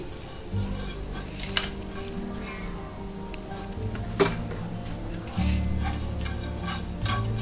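Coriander, spices and grated coconut being tossed in hot coconut oil for a king fish curry, a low steady sizzle with occasional sharp spoon knocks against the pan.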